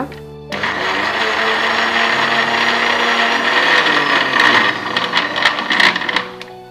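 A mixer grinder blends a roasted masala paste for a mutton curry, its motor whirring loud and continuous after a brief start, then turning rougher with rattling bursts near the end before it cuts off.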